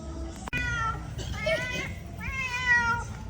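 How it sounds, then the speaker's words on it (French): A well-fed stray cat meows several times in a row, close and clear, drawn-out calls with rising and falling pitch after a brief sharp knock at the start. "Je crois qu'on a adopté un chat."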